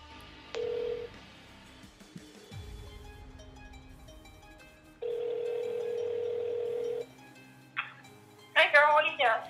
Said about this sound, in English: take my phone and call my mom right now